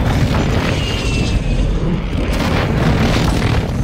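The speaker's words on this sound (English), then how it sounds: "Airstrike, precision airstrike on B, watch it." Precision airstrike explosions in a Call of Duty ranked multiplayer match roar as a loud, continuous rumble of booms, dense and sustained for several seconds with no pauses or talking.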